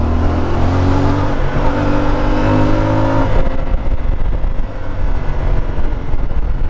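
A CF Moto 450MT adventure motorcycle revving up under acceleration, its engine note climbing in loud, steady tones before shifting into a rougher, broadband roar of wind and motor on the road.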